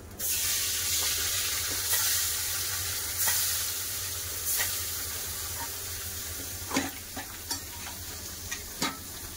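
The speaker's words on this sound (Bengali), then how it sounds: "সব মাছগুলো আমি ভেজে নেবো।" Fish frying in oil gives a continuous sizzle, with occasional clinks and scraping sounds and a few sharp knocks toward the end, no talking.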